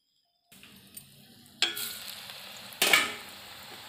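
Murukku dough is pressed into hot oil after brief silence, setting off a soft crackling sizzle that swells twice in sudden bursts as more dough drops in, then settles into a steady fry.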